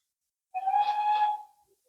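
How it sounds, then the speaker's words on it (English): A steam train whistle gives a single sustained blast lasting about a second, clear and fairly close, then cuts off, with no talking over it. "There goes the steam whistle."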